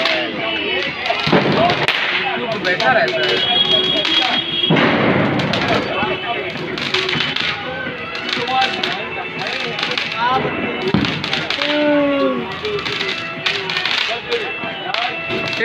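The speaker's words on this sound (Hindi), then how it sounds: "बम बम फोड़ेंगे" Firecrackers and fireworks burst during a Diwali celebration, with repeated loud bangs, thuds and crackling mixed with people talking and shouting nearby.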